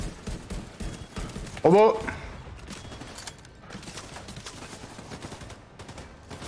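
Machine gun fire in The Division 2 end-game closed beta, rattling in steady rapid bursts throughout, moderately loud beneath excited voices talking over the action.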